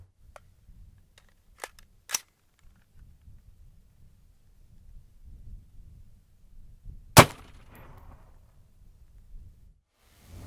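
An AR-15 rifle with an 18-inch upper and 1-in-7 twist barrel firing 55 grain soft point .223 rounds at an outdoor range, with a few sharp cracks early on and one loud shot midway over quiet background.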